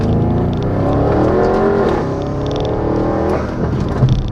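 A four-door Audi RS7 accelerates hard along the twisty mountain road known as the Dragon, its engine note rising loud and close, dipping briefly before climbing again with a gear change.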